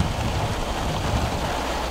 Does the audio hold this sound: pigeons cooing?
no